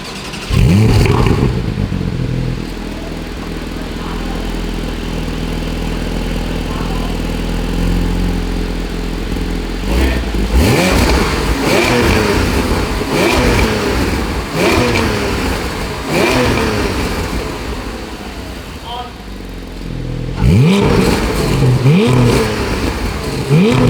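A Porsche 718 Spyder fitted with an Akrapovic exhaust revs hard and close, its engine rising and falling in repeated bursts between stretches of idle, loud throughout.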